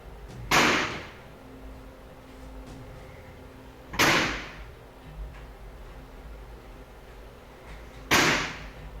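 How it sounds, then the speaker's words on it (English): A door slams shut three times at steady intervals of about four seconds, each slam a sharp, loud bang with a short rumble, separated by quiet room tone. "Listen to this part and tell me if you can hear a fan or some kind of air current or really anything that could be causing the door to slam like this."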